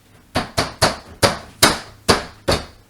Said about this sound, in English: I'll just hammer these pieces all back into their spots